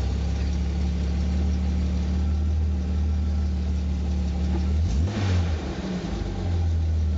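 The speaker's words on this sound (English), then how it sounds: "The new exhaust sounds fantastic." A 1969 Jaguar E-Type roadster with a new exhaust, its engine running in a steady low drone, then one quick rising rev around the middle that settles back to idle, close and loud with no talk.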